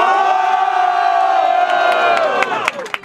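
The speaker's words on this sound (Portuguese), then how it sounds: "Barulhos, barulhos pra quem gostou das rimas do Barreto" Loud, sustained cheering from a big crowd at a rap battle, a dense roar with yelps on top that breaks into a few scattered shouts.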